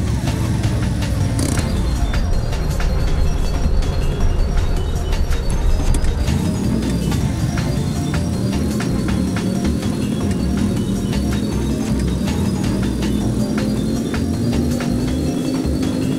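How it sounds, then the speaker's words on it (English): Flame truck driving in the game Dusty Trip during a top-speed run, its engine droning loudly and steadily with a slowly rising pitch as it accelerates, continuous throughout. "The top speed of the flame truck is 143 kilometers per hour."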